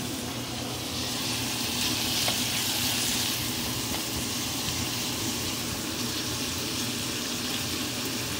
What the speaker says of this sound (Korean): 양파랑 마늘을 이렇게 불러가지고 볶고 있고